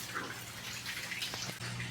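Water streams and splashes steadily as a concrete crayfish pond drains after its pump is shut off, a constant close rush with small drips and no talking.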